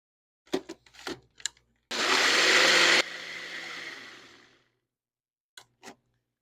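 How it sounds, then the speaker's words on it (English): A blender blends Alfredo sauce with broth, salt and pepper. A few sharp clicks come first, then a loud whir of about one second that winds down over the next couple of seconds, with a couple of clicks at the end. "And then I'm going to blend one more time."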